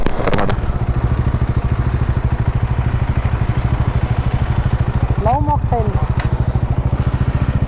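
A motorcycle engine runs steadily throughout near Kudremukh with a low rumbling putter, loud and close, with a brief higher whine partway through.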